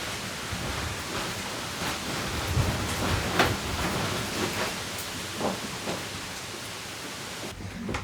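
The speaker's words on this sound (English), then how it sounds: "it's cloudy and it's thundering and it's starting to rain" A heavy thunderstorm sweeps over a camper van, with rain and wind roaring as a thick, continuous wash and slight surges in intensity throughout, no talking.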